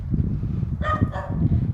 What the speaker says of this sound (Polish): Tutaj są tak zwane małe psy.